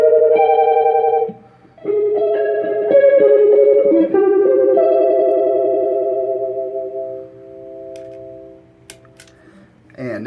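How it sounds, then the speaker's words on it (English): Electric guitar played through a modulation pedal, sustained chords with a wobbly, warbling pitch that swells and fades, loud and up close, ending in a brief quiet stretch. "You get a lot of cool, kind of weird, wobbly sounds that once you get it going high."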